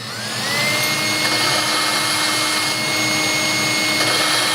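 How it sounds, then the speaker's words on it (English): A steady motorized whir of a power drill running at low speed while lapping a valve in an LS cylinder head, continuous and fairly loud with a constant tonal hum throughout, no talking. "Okay, set my drill on slow."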